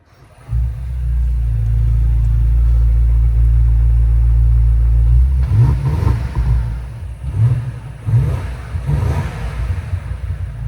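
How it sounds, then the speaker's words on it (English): A BMW M5 G90 V8 engine starts and idles with a deep, loud exhaust rumble, then revs several times in throaty bursts up close. "this is all we get out of a V8 in Europe."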